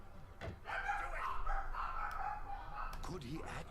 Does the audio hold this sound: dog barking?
yes